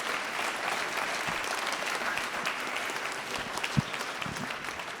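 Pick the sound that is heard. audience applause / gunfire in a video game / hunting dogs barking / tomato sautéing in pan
audience applause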